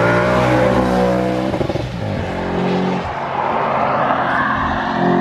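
Audi RS4 with a 4.2 litre engine revs loudly and close, dropping through several race-style downshifts with sharp throttle blips and crackling overrun between steady harmonic engine tones.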